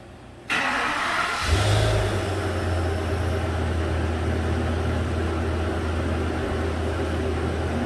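A 2014 Ford F550 truck with a lean-running fault cranks briefly and starts, then settles into a steady, low rumbling idle, close and continuous with no talking.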